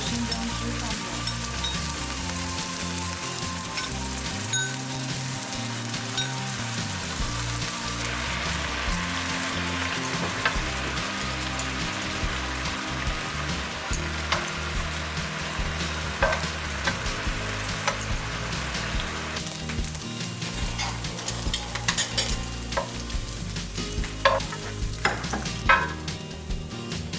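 Pork in ginger juice sizzles and fries steadily in a pan while being stirred, with continuous crackling and occasional scraping clicks throughout, fairly quiet and without any voices.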